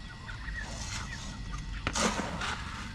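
Backyard chickens clucking and squawking outdoors during feeding time. The calls are close and fairly steady, with one louder honking burst near the middle.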